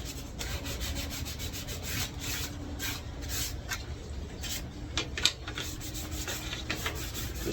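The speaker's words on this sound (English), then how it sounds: "Just trying to scuff it out a little bit. That way the primer will grab." A car body part is scuffed by hand before primer on a G-body restoration, giving a steady, close rasping rub that keeps going without a break.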